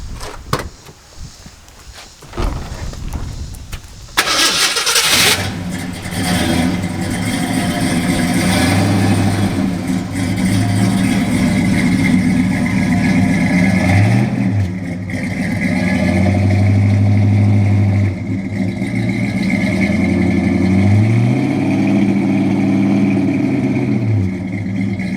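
A car engine cranks and starts, then settles into a steady idle and is revved in several short blips, rising and falling close by, with faint background voices.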